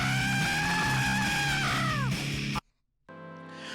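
A recorded yell from an old music track plays back as a loud, strained, wavering cry over a pulsing background, sliding down in pitch before cutting to near silence, then the track resumes.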